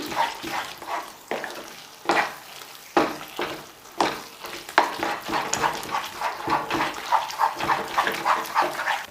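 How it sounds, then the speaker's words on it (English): A thick, sticky Bombay Karachi halwa mixture with ghee is stirred and worked in a pan, giving repeated squelching, slapping strokes in an irregular rhythm, close and moderately loud, with a sizzle underneath and no talking. "we have to stir it very well so that this halwa absorbs this ghee completely"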